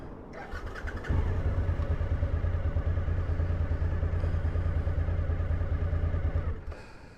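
A motorcycle engine cranks and catches, settling into a loud, steady idle close by for several seconds before cutting out near the end.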